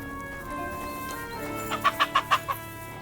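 Chickens cluck in Kingdom Come Deliverance 2, a quick run of five close, distinct clucks near the end over a quiet ambient background.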